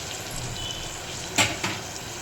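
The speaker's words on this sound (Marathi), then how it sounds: "डाळीला नुसती फोडणी द्यायची आहे बस" Hot oil sizzles steadily in a dal tempering of cumin, mustard seeds, garlic, chili and curry leaves, with two sharp crackling bursts rising near the end.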